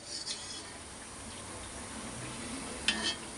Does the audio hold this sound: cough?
no